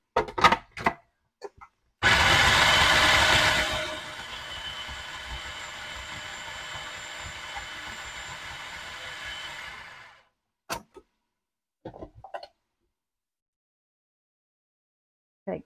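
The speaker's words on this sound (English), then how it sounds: "And I put it in my food processor." A food processor chopping cauliflower florets into rice whirs loudly for about two seconds, then settles into a steadier, lower rattling hum for roughly six more before stopping, with brief handling knocks before and after.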